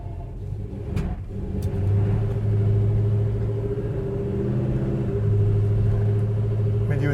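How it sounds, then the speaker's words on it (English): A 1969 Chevelle SS idles with a steady, lumpy low rumble, its uneven rhythm hinting at a cammed sound, and swells slightly as it is revved near the microphone, with no voices over it. "You would think the engine's cammed the way it sounds."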